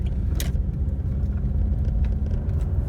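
Steady low rumble of a car being driven, a continuous road and engine drone heard from inside the cabin, with faint higher hiss, no talking.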